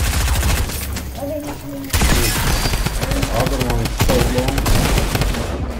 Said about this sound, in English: Oh, they have the drum gun.